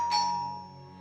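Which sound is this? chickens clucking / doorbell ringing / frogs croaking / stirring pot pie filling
doorbell ringing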